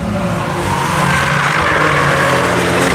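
Porsche race cars on a track at Hedge Hollow during the One Lap of America event, engines roaring steadily and loud with some tire noise as they pass.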